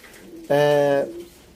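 A single clear coo from a Sialkoti pigeon rings out close by, a smooth half-second call against a quiet background.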